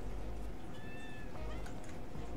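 A cat meows in the video game Animal Shelter Simulator, one clear drawn-out meow with a softer follow-up over a steady background hum.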